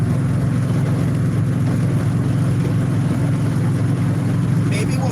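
Steady low engine drone fills the cabin of a 1969 Dodge Dart GTS with the windows up, a continuous loud hum running throughout with a brief higher rattle near the end.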